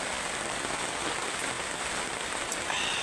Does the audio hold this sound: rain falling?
yes